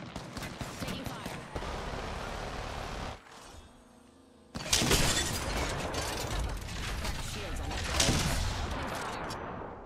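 Gunfire in an Apex Legends match, with dense bursts of shots and clattering mechanical effects filling most of the span, a short quieter gap in the middle, then loud firing resumes.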